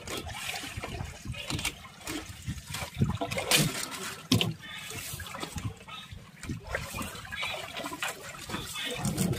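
Splashing, trickling water, likely being poured into a container, continues with bursts of sloshing throughout, fairly close and moderately loud.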